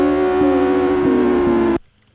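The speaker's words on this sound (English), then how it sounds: "I love distortion so much." Heavily distorted electronic beat with a buzzing, harmonically dense tone and rhythmic pulses, loud and upfront, cutting off abruptly near the end.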